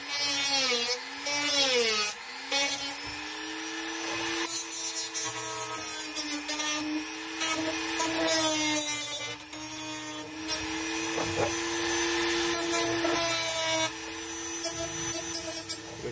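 A Dremel 3000 rotary tool cuts into a plastic Aqueon Deluxe LED aquarium hood, a close, loud, high whine that rises and dips in pitch as the bit bites the plastic, with brief pauses and no talking.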